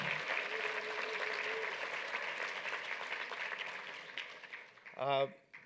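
A room full of people applauds honorees of the Black Alumni Association at a UCLA awards ceremony, a steady wash of clapping that fades near the end before a short burst of voice.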